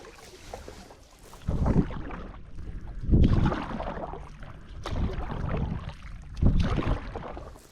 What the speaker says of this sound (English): The wind's picked up a little bit at the moment, coming straight at me.